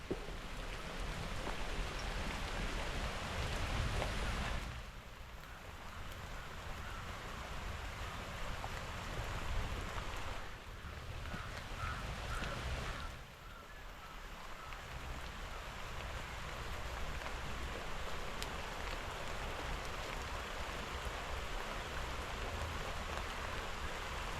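Light rain falling outdoors beside a river while fishing, a steady soft hiss of drops with a couple of short lulls, faint and continuous without talk.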